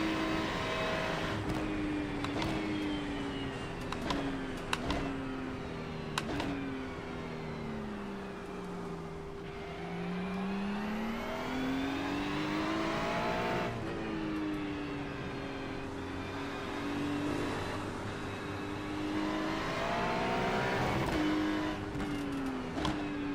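Race car lapping a track in the iRacing game, engine note rising and falling through gear changes and braking, with a steady tonal whine and occasional clicks, continuous and close with no talk.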